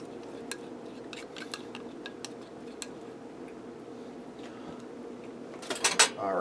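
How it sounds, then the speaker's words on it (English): A spoon scrapes and taps softly as mustard glaze is poured over a pork roast in a pressure cooker, with sparse quiet clinks against the pot, then a louder cluster of knocks near the end. "take that mustard glaze we made and dump it right down over top of the roast"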